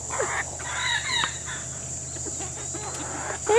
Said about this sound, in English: this guy here is a rooster, for sure